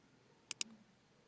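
Two quick, crisp clicks of a computer mouse, close together and faint, as someone clicks through an antivirus program's menu in a quiet room.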